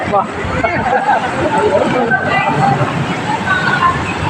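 Floodwater rushes and sloshes through a village, a dense continuous wash of water heard close, with a voice talking over it throughout.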